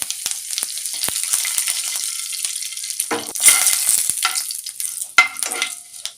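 Steady crackling sizzle of fennel seeds frying in hot oil, with curry leaves added, a few louder pops and stirring scrapes; no voices.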